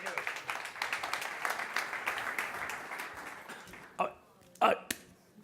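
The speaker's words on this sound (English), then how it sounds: "Big applause for Navilens, Javier Pita." Crowd applause for a startup pitch at a smart-mobility competition stage, a steady dense patter of many hands lasting about four seconds, then fading out with a couple of isolated later bursts.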